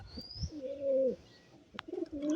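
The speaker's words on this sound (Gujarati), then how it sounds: "આની આ ભાઈ પાસે કબૂતર છે, 6-7 કબૂતર છે." Pigeons coo in a couple of soft, rolling calls close by, with a brief chirp and light rustling between them and no talking.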